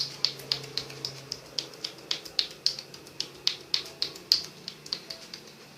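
Fists tap alternately on a person's back during a fitness massage, a quick, steady series of sharp, light percussive pats, close and clear.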